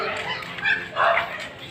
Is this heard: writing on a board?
no